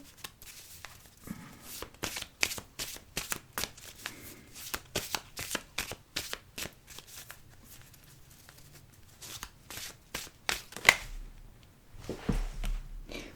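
Oracle cards being shuffled by hand, a rapid series of crisp riffling snaps and flutters repeated close up through most of the clip, pausing briefly near the end.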